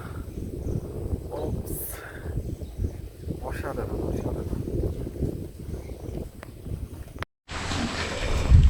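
Wind blowing noisily across the microphone in a continuous low rumble during a motorcycle ride on a brick road in Bandarban after rain, with a person talking under it and a brief dropout near the end.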